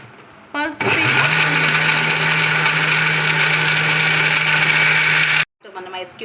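A blender blends a milkshake, switched on at pulse speed. It gives one loud, steady whirring burst of about five seconds, then cuts off abruptly, with brief speech before and after.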